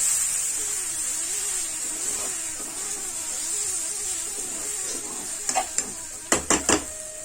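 Potato fry sautéing in coconut oil in a pan, a low steady sizzle under stirring, ending with several sharp metallic clinks of a utensil against the pan.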